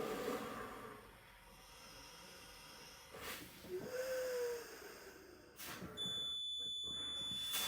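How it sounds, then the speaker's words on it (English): An AP Inspiration closed-circuit rebreather handset sounds its CO2 and low oxygen alarms, steady tonal beeping entering late over a hissing background with a few breathy rushes. "So we've got a CO2 alarm and a low oxygen alarm"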